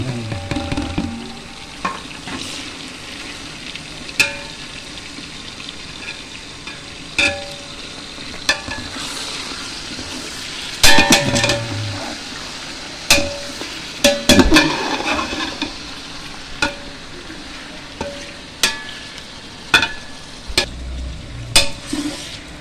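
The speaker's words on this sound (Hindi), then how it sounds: "10 मिनट तक हम इसको इंशाल्लाह हम फ्राई करेंगे।" About 3.5 kilograms of chicken frying in a large pot with onion, garlic and ginger, a continuous sizzle broken by repeated sharp scrapes and clanks of a stirring spoon against the metal.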